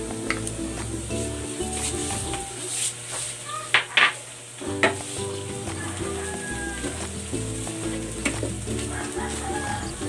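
Onion and tomato paste sizzle with pork belly in a pan for a Filipino pork asado, a steady close frying hiss with occasional stirring clatter and no talk.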